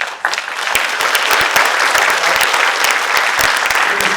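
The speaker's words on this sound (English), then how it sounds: "Ladies and gentlemen, one more time, give that round of applause for the incredible Mike." Rally audience applauding a speaker at a Life Savers event, a loud, dense burst of clapping that swells quickly and holds steady with sharp individual claps standing out throughout.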